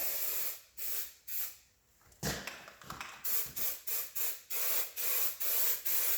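Aerosol spray can coating a 70-year-old gas tank from a 1955 Dodge: a long hiss, then a series of short, evenly spaced close bursts of spray with brief gaps between.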